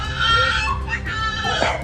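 A pig squeals in a run of high, harmonic cries at close range, with people talking nearby.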